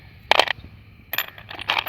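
Old coins clink and jingle as they are handled, two short bursts of metallic rattling separated by a quiet gap, close and alone.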